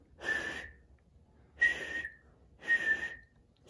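A reader imitates a whistle with his mouth, giving three separate breathy whistle bursts with short pauses between them, close and fairly quiet.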